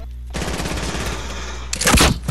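Rapid automatic gunfire rattles loudly in a video game, a sustained burst of close, dense shots followed by a heavier blast near the end.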